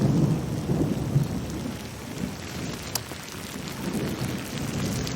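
Steady rain pours down while rolls of thunder rumble through it, with a sharper crack near the middle; the storm stays close and fairly loud with no voices.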